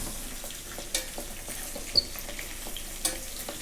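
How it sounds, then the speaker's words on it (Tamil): Sesame seeds, dried chillies and peanuts dry-roasting in a pan give a soft, steady crackle, with a few sharper pops and stirring scrapes spaced through the short stretch. "எள், மிளகா, வேர்க்கடலை வறுத்துட்டுருக்கேன்"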